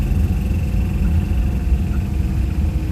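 An Isetta microcar's small engine runs steadily after a shift into third gear, a close, low, even putter with a faint hum and no voices.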